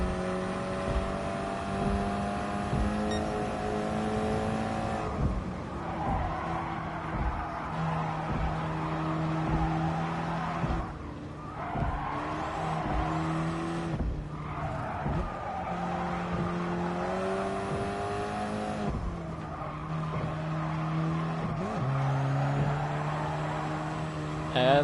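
Race car engine in GT Sport on the Tokyo Expressway during a Nations Cup race, a steady high engine whine that climbs and drops through gear shifts, with tire squeal, continuous and close throughout.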